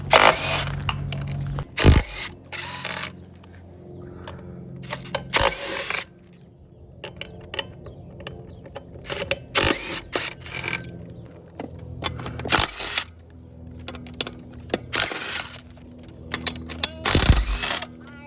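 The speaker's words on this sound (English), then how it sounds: "Step, we're going to take our lug nuts off." Lug nuts are removed from the wheel of a Honda TRX 450R quad: repeated bursts of ratcheting, clicking mechanical noise with metallic clanks and short pauses between nuts, close and fairly loud, with no talking.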